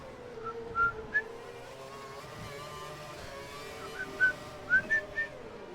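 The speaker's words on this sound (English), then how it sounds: "That was my attempt at whistling." A person whistles a tune in short, bright phrases over a steady background hum of a Formula 1 car engine in a racing game.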